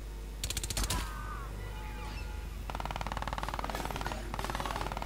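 Bursts of rapid automatic gunfire crackle in short volleys in the game Crysis 2, the first near the start and a longer stuttering run in the second half, with game sounds between.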